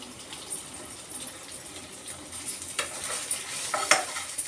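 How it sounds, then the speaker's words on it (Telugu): Soaked tamarind juice poured into a hot frying pan over onions while making stuffed brinjal, giving a soft steady sizzle and stirring scrape with a few brief louder splashes and clinks near the end, no talking. "నానబెట్టిన చింతపండు బాగా పిసికి చింతపండు రసం వేసేసుకుందాం"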